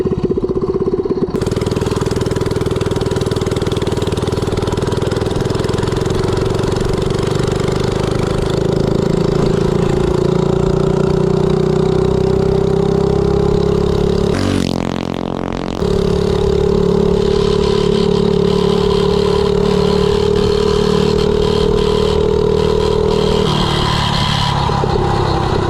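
A Coleman CC100X 98cc mini bike with a swapped engine and too tall a 53 gear runs steadily at speed, its droning pitch slowly rising, dipping and roaring midway, then easing off near the end.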